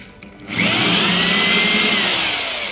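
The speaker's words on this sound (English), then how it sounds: "Then I can go ahead and drill." A power drill with a hole saw whirs up to full speed and grinds steadily through wood, loud and close, holding a high sustained tone.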